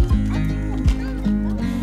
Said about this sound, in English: Here, come see the horses.